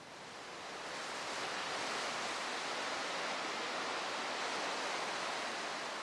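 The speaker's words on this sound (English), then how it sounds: "the sea, the constant," Ocean surf along the shore at Cape May, a broad steady wash of breaking waves that swells in at the start and holds as an even hiss, heard alone without voices.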